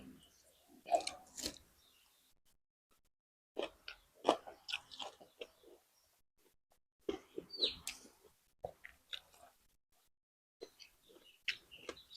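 Someone chews crunchy bamboo shoots and pork stomach in bursts of close, crisp crunching and smacking, separated by quiet pauses, with faint chirps in the background.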